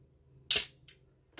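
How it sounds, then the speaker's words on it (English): Mirror of a broken Olympus OM-1 film camera flipping up with a sharp, close mechanical clack, followed by two fainter, shorter clicks, in an otherwise quiet room. "you can kind of see the mirror flip up here, but the shutter does not open"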